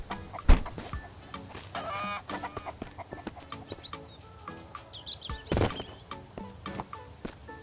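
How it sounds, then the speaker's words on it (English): A flock of chickens in the Mist Survival video game clucks and squawks nearby in a dense, steady chatter, punctuated by a couple of sharp loud thumps and a few high bird calls. "There's chicken like crazy."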